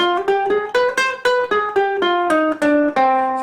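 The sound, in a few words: ukulele playing the harmonic minor scale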